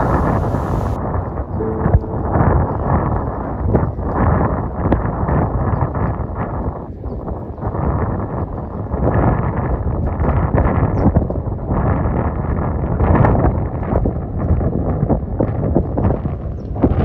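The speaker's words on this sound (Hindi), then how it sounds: "ये जो आप शोर सुन रहे हैं, ताज़ी ठंडी हवा का शोर है" Fresh cold wind rushes through the Gurez valley, a loud, steady buffeting roar with a deep rumble that persists unbroken throughout.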